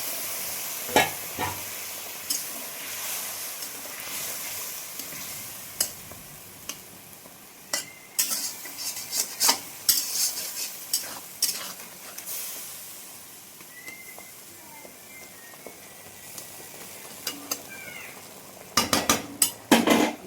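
Spice paste of poppy seed, sesame, ginger and mustard poured into a hot pan, with soft sizzling and stirring through the stretch, scattered clinks of a utensil against the pan, and a few sharper knocks near the end.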